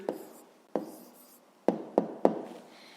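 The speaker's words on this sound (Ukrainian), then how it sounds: "І записуємо відповідь." A pen writes an answer by hand on paper, making a series of short, close scratching strokes with brief pauses between them, with no voices.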